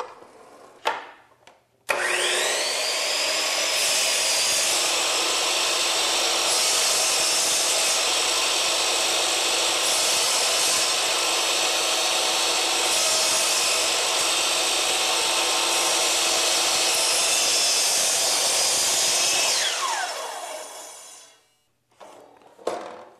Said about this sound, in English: I waited for the saw blade to stop moving before I pulled it up out of the material